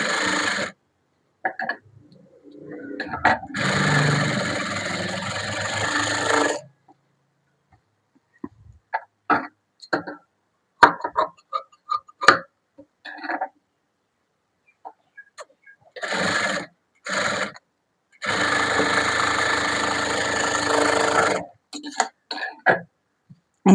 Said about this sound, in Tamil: இனி கூட ஒரு தையல் போட்டுடலாம்.